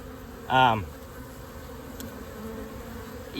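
A close bee buzzes loudly past for a moment against a steady low hum, with another faint buzz at the end.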